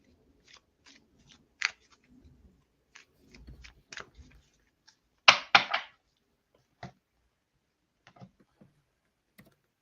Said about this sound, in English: So we'll shuffle the cards.